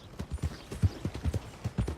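Shire horse hooves clip-clopping at a steady walking rhythm in Red Dead Redemption 2, close and distinct, about a dozen hoof falls over the span with no talk over them.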